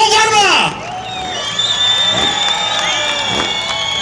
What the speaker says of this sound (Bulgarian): Още веднъж аплодисменти за любезните домакини от Нова Варна!